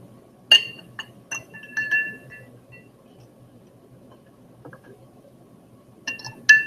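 Ice cubes drop into drinking glasses during an ocean water density lab, giving a few sharp, bright clinks with a cluster early on and a couple more near the end, each separated by quiet.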